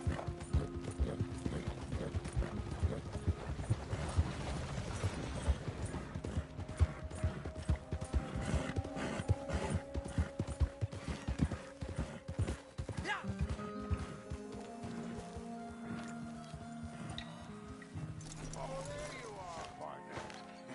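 Horse hooves clip-clop steadily through the Red Dead Redemption 2 video game, repeating in a brisk rhythm under game music and ambience while someone talks over much of it, with a brief whinny possible.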